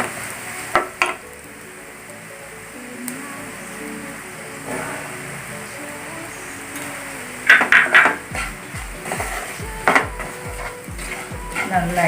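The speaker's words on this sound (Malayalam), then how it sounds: "നന്നായി ഇളക്കി ആ പച്ചമണം മുളകിൻ്റെ ഒക്കെ മണങ്ങളൊക്കെ ഒന്ന് മാറുന്നവരെ ഇളക്കി കൊടുക്കുക" A spoon stirs garlic pickle with chili and turmeric in a pan, giving soft scraping and sizzling with a cluster of sharper metallic clinks and scrapes toward the end.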